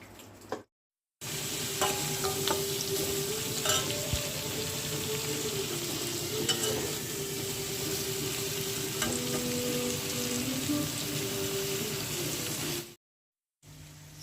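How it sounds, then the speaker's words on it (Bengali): Potatoes, onions, green chillies and dried chillies fry in a pan in a Bengali home kitchen, a dense continuous sizzle with stirring clatter and faint running-water sounds, close and steady, no talking. "আলু, পেঁয়াজ, লঙ্কা, শুকনো লঙ্কা দিয়ে ফ্রাই।"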